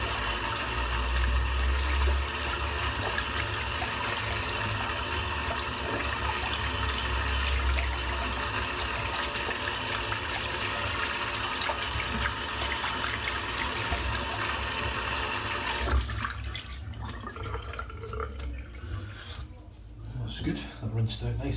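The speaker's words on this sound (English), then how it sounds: "Give the brush a rinse out now" Tap water runs steadily while soap is rinsed out of a shaving brush, a loud continuous rush that cuts off near the end into quieter drips and handling.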